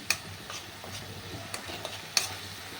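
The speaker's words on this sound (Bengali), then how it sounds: "পেঁয়াজ বাটাটা ভাজা হোক।" Onion paste with ground cumin and coriander frying in a pan for a banana blossom kofta gravy, heard as a low steady sizzle broken by a few sharp spoon scrapes and taps as it is stirred.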